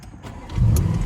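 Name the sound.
2017 Audi S7 engine starting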